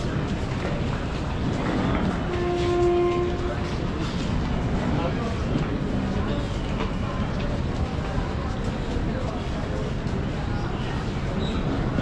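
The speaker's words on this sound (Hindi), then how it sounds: "ये जा रही भोपाल एक्सप्रेस।" The Bhopal Express train moves past on a platform at a Delhi railway station, a steady rumbling roll with a brief horn tone amid busy station ambience and someone talking nearby.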